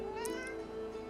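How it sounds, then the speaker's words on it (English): A black cat with clouded grey eyes meows once in Divinity Original Sin 2, a clear, drawn-out tonal cry heard close and alone over a steady game music bed. "A black cat crosses my path."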